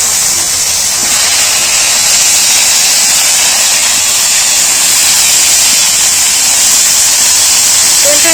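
Potatoes and eggplant fry in very hot oil seasoned with five-spice, giving a loud, steady, broadband sizzling hiss that holds unbroken and close throughout.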